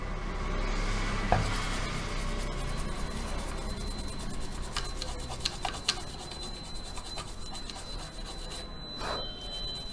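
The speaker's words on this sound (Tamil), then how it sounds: "இப்போ நம்ம டின்னர் வச்சு ப்ரஷ் வச்சு க்ளீன் பண்ணிக்கலாம்." A brush dipped in thinner scrubs a circuit board clean with a continuous close, scratchy rubbing, interspersed with small ticks and clicks as the bristles catch components.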